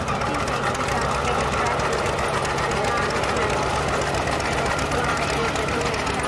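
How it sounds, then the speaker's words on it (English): A Lanz Bulldog tractor engine runs steadily at a rural heritage rally, a continuous loud mechanical chugging with vibration, under crowd noise and a voice on a public address. "it's to do with the vibration of the engine on the bulldog"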